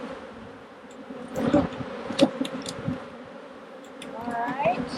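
Honey bees buzz around an open hive during a split, a low droning hum with a few louder passes near the microphone and some clunks of handling underneath.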